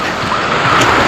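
Strong ocean waves surge in a loud, broad rush of surf, close up with heavy wind buffeting across the brief moment.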